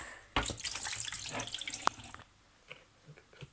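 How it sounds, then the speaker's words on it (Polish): Fresh water gushes from a home tap into a dog's bowl, a steady close splashing stream lasting under two seconds before it shuts off, followed by a few faint drips and small clinks. "Muszę mu nalać świeżej wody."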